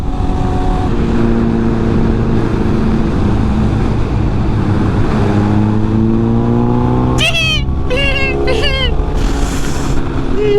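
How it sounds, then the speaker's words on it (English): A motorcycle engine drones loudly and steadily, then revs hard in several rising bursts near the end, with voices mixed in. "My bike is so loud."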